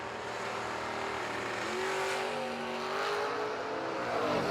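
Race cars at a drag race launch off the line together, a loud, steady engine roar with rising revs building over several seconds, up close and with no talk.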